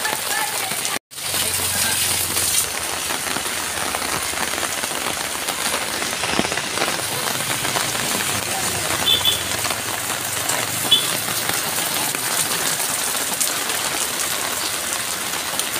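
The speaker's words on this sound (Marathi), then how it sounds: "नालासोपारामध्ये जोरदार असा पाऊस लागायला सुरुवात पडलेली आहे।" Heavy rain pours steadily in Nalasopara, a dense continuous hiss of drops on surfaces with a brief sharp dropout near the start and faint voices underneath.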